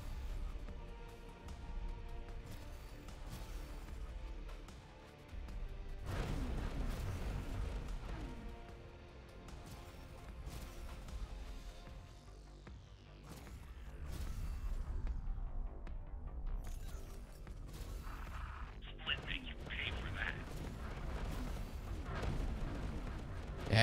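Repeated heavy booms and blasts of space ship cannon fire in the game X4: Foundations, rolling over a low rumbling din, with sustained barrages and a sweeping tone near the middle.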